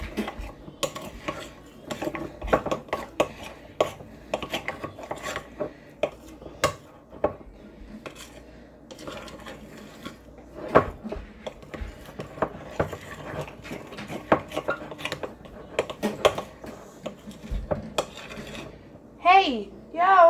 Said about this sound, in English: You're going to take your bowl, place it in there, and you're going to mix that all up.